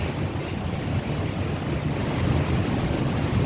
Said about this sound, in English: They say out there's 10-meter waves.